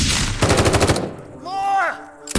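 Rapid bursts of animated weapon fire in a TF2-style Source Filmmaker scene, a loud machine-gun rattle followed by a descending whooshing tone and a final sharp blast.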